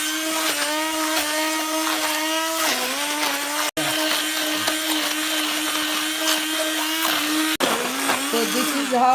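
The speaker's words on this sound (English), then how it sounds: "I'm using a hand blender to blend the spinach into a paste." A hand blender blending spinach into a paste whirs steadily with a high motor whine, pitch dipping briefly as it bogs down, with two short pauses before resuming.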